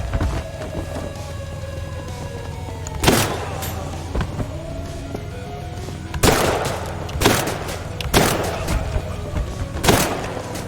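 Gunfire from an AA-12 shotgun in the video game Scarlet Shell, several loud booming blasts spaced a second or two apart over a droning electronic game soundtrack.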